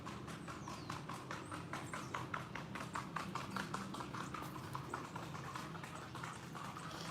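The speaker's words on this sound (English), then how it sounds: "I love horses and sound of horses." A horse's hooves clip-clop in a steady, continuous rhythm on a hard street, moderately close, over a busy outdoor background hum.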